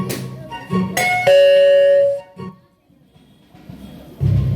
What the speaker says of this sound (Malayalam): calling bell മുഴങ്ങുന്നു